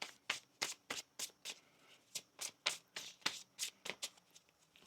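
Tarot cards being shuffled by hand in a run of crisp, rapid riffles and slaps, about a dozen bursts in steady rhythm, close and clear with no talking over them.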